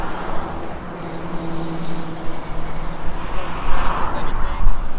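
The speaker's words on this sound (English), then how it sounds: "Can't hear you, the traffic." Road traffic on a street: a steady, loud roar of passing cars and motor vehicles that swells louder toward the end.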